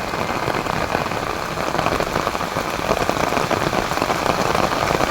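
Steady rain pours down outdoors, a dense, even patter of drops hitting surfaces nearby with no voices.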